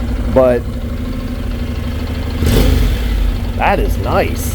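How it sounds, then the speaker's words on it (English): A 2016 Honda NC700X motorcycle idles steadily with a low, even engine rumble that runs under someone talking near the bike throughout. "That's a pretty beefy sounding bike."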